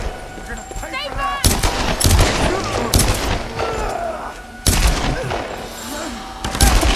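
Gunfire in the Tomb Raider video game, a series of sharp loud shots and bursts in irregular rhythm, with booming impacts, mixed with shouting voices.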